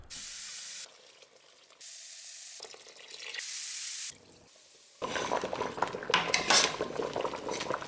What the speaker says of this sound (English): we can go ahead and add the chicken bones and continue this process